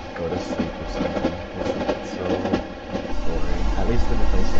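Train ride in a Cry of Fear video game cutscene: a steady rumbling rail roll with rhythmic wheel clatter, fairly loud and rising toward the end, with no talking.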